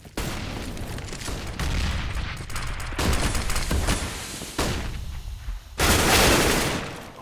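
Gunfire in a professional CS:GO match on the Cobblestone map: repeated loud bursts of rifle fire and shots come in dense, overlapping volleys, with brief dips between rapid fusillades and a heavy final burst.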